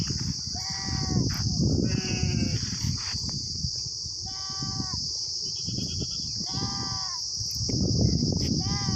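Goats and sheep bleat at a farm, several distinct calls spaced a second or two apart over constant high-pitched background insect or electrical noise and low rumbling handling sounds.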